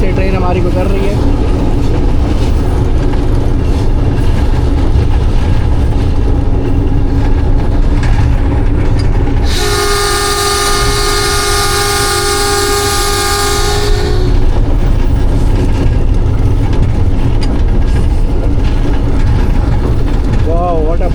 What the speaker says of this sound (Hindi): दोनों पहाड़ियों के दरमियान से ट्रेन हमारी गुजर रही है।